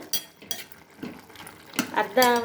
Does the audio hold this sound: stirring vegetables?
yes